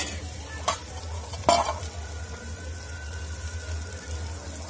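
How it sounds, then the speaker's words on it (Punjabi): A spoon scrapes and stirs potatoes and peas frying in a pan for a home-cooked Punjabi aloo matar sabji, with two sharp clanks of utensil against the pan over a low, steady sizzle. "ਸਾਰੀਆਂ ਚੀਜ਼ਾਂ ਨੂੰ ਆਪਾਂ ਚੰਗੇ ਤਰੀਕੇ ਨਾਲ ਭੁੰਨ ਲਿਆ ਆ।"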